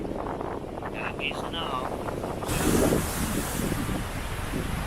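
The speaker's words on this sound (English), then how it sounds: "But the problem is, it is terribly windy out." Strong wind gusts buffet the microphone with a steady roar that swells into a louder blast partway through, while a person speaks briefly outdoors.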